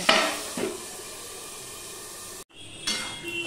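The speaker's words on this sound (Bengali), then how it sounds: "এবার মিডিয়ামে দিয়ে আমি ঢাকা দিয়ে দিয়ে আলুটাকে ভেজে নেব" Potato pieces frying over medium heat in a covered pan, a steady soft sizzle with a clink of the lid or utensil near the start and a brief cutout before the hiss resumes.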